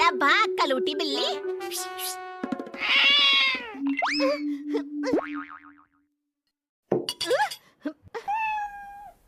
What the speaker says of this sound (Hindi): अरे भाग कलूटी बिल्ली।